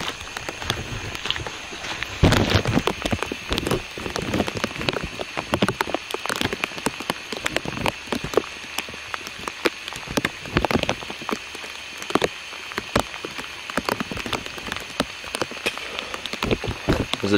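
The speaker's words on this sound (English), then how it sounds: "Starting to rain really hard." Heavy rain pours steadily in a forest beside a road, a dense, continuous hiss of drops with sharper close spatters and splashes throughout, loud and near with no one talking.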